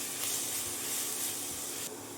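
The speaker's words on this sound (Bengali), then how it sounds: "সুন্দরভাবে অনিয়নটাকে ফ্রাই করব।" Finely chopped onion frying in hot oil and butter, a steady dense sizzle that holds evenly close by and alone, with the hiss easing slightly near the end.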